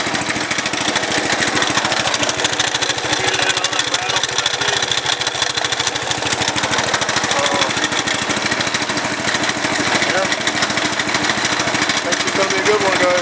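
A Cub Cadet 127 hydrostatic lawn tractor engine idles steadily, a loud, continuous mechanical drone with a fast knocking texture that holds unchanged throughout, with no talk over it.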